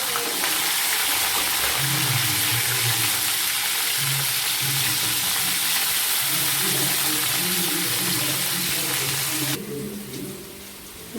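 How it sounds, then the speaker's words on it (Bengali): Chopped beans and capsicum fry in hot oil for a mixed paneer dish, a steady close crackling sizzle running continuously before easing slightly at the very end, with no talking. "এরপরে আমরা দিয়ে দেব কেটে রাখা বিনস আর ক্যাপসিকাম, দিয়ে একসাথে হালকা করে"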